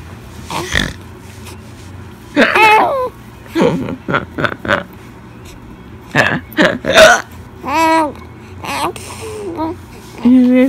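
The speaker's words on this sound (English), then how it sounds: "Me having the hiccups, you think that's funny?" A person's sharp, repeated hiccups come in irregular bursts over about ten seconds, mixed with babbling and vocal sounds nearby.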